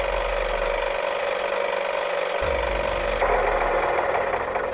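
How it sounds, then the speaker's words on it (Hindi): A cartoon tractor engine drives past with a steady, loud mechanical drone and low rumble that changes character partway through, continuous and without speech. "रोशन वहां से अपने ट्रैक्टर पर गुजर रहा था"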